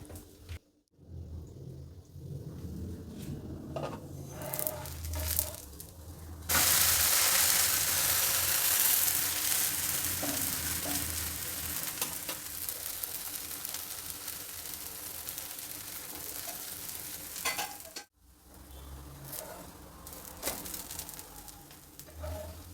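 A mixed-vegetable uttapam with onion, carrot, beans and capsicum sizzles in oil on a pan, a loud steady hiss that swells after a quiet start and drops out briefly near the end.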